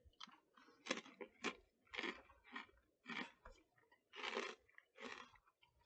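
Takis rolled tortilla chips crunched and chewed up close, a run of distinct crisp bites and chewing bursts at an uneven rhythm, quiet and with no talking.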